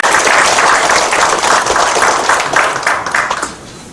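Applause from an audience at a national farmers' and fishermen's rally as a speaker is welcomed; dense, loud clapping lasting several seconds before fading.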